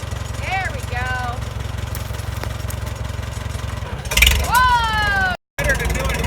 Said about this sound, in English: this is a 1943 tractor